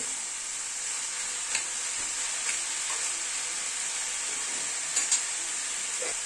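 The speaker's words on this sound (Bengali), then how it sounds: "থোরটাকে আস্তে আস্তে গ্যাসের ফ্লেমটাকে মিডিয়ামে রেখে থোরটাকে আস্তে আস্তে কষিয়ে নেব" Chopped banana stem (thor) sautéing in a pan over a medium gas flame, a steady close sizzle and hiss with occasional stirring clinks and scrapes against the pan, no voices.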